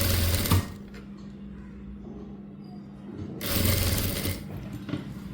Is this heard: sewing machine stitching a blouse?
yes